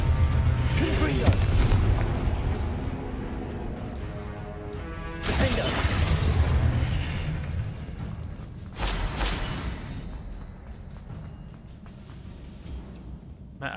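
Spell blasts in Hogwarts Legacy, including Confringo, erupt as loud crashing booms, with separate bursts spaced a few seconds apart and a voice calling out over the action.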